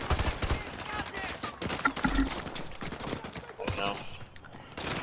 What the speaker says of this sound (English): I'm being shot from nowhere.